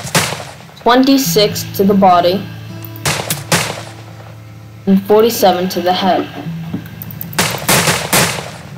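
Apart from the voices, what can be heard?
revolver gunshots in a video game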